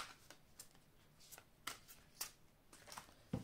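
A deck of chakra oracle cards is shuffled by hand, a soft riffling patter with crisp flicks and slaps as cards are handled and drawn, close and fairly quiet.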